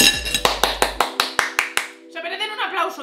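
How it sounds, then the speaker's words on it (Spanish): A short burst of hand claps, about eight sharp evenly spaced slaps from one person close up in a kitchen, followed by a voice talking. "Se merecen un aplauso y yo, por buena cocinera."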